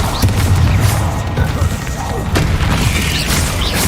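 A Bombarda blast spell in Hogwarts Legacy, a heavy booming burst with a rumbling low tail amid other combat sounds, with a voice speaking over it.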